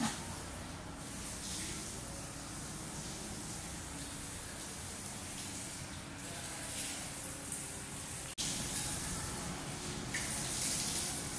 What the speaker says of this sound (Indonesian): Keran airnya cukup banyak, sehingga tidak ada antrian untuk berwudhu.